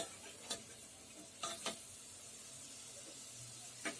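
Spices sauté in a masala paste for chavli batata bhaji, a faint low sizzle with a few sharp spoon scrapes and clinks against the pan scattered across the stretch.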